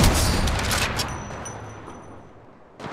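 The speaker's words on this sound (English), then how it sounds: "Listen up, I'm getting shot at." Automatic gunfire in the mobile battle royale Apex Legends Mobile, a loud rapid burst of shots for the first second, then a decaying echoing tail fading out before another sharp shot at the end.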